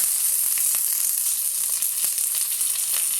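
Dried red chillies and fresh curry leaves sizzle in hot oil, a steady, close, bright hiss with faint crackles throughout; no speech.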